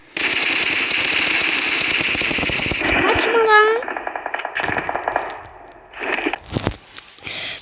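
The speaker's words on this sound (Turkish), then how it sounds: "Arkadaşlar vuruyorum da vuruyorum." Rapid automatic gunfire in the mobile battle-royale game PUBG Mobile, a loud sustained burst followed by scattered single shots and impacts, with a player talking over the action.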